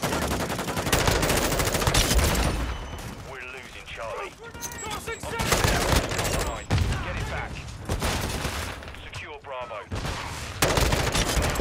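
Rapid bursts of automatic gunfire and single shots crackle through a Call of Duty: Modern Warfare II match, loud and close, broken by brief quieter gaps, with voices talking over parts of the action.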